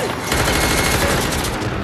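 Gunfire from a gun in a Squid Game episode, a dense burst of loud, crackling shots that fill the moment and cut off abruptly.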